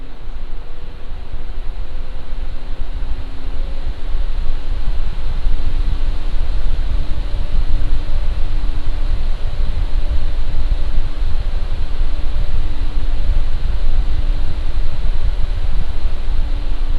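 Lian Li Galahad II Lite AIO cooler fans spinning under full Cinebench load, a steady loud broadband whoosh with faint tonal hum lines, constant throughout with no talking.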